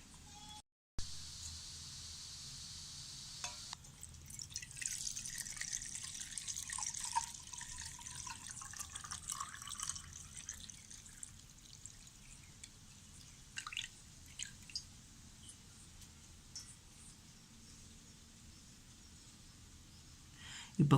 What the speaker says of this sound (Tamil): இப்போ இதில் இருக்க விதையெல்லாம் தனியாக வடிகட்டிட்டு நம்ம இந்த ஜூஸை குடிக்கலாம்.